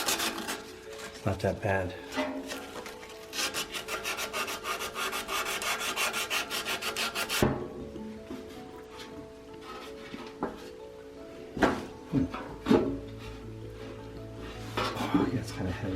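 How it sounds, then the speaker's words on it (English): Sandpaper rubbing rust off the shaft of a variable-speed A/C furnace blower motor, a steady close rasping scrub with rhythmic strokes, then scattered knocks and handling noises, and someone speaking briefly. "All I'm doing now is sanding off the rust that's blocking the shaft from sliding out."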